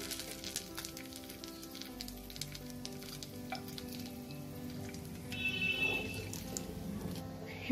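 Dried red chillies, a bay leaf, cardamom and cinnamon sizzle in hot oil for a prawn malai curry, a faint but steady crackling hiss with light pops and a brief brighter sputter midway.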